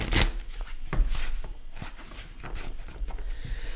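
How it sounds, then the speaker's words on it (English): A deck of tarot cards is shuffled close up in a few quick riffling bursts separated by soft rustles and pauses, quiet and alone. "So I'm going to do a couple shuffles here."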